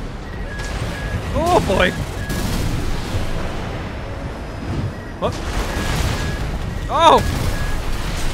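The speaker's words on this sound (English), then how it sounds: "Missiles, every missile I have go" Missile volleys and explosive thrower blasts in the Armored Core 6 video game, mech combat: repeated booming explosions and whistling missile streaks over constant battle rumble, with a man briefly exclaiming.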